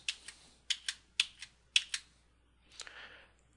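Fingers tap on a computer keyboard in short paired clicks, four quick groups of keystrokes followed by a softer, longer rattle, close and fairly quiet, with no talking.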